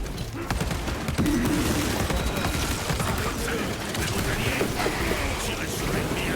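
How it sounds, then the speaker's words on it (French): A magazine reload in the Space Marine 2 video game, mechanical clacks and clicks amid a dense bed of ongoing gunfire and battle noise, with voices speaking nearby. "Je change de chargeur."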